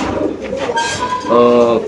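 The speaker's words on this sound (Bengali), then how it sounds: "এই যে ফ্যান্টেল কবুতর দেখেন আপনারা" A fantail pigeon gives a short, close cooing call, its soft rolling notes rising briefly against faint background voices.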